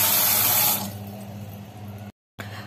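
Cold tap water gushes loudly into a large bowl for under a second, then settles into a softer steady running and splashing before briefly cutting out and resuming.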